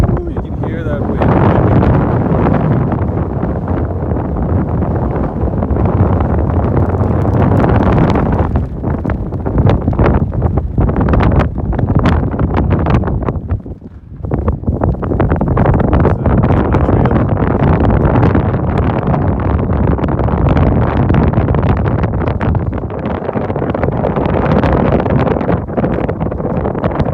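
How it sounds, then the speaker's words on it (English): Strong wind buffets the microphone near the summit of Wolverine Peak in misty mountain conditions, a loud, constant roaring rumble with gusting swells that lasts throughout. "you can hear that wind."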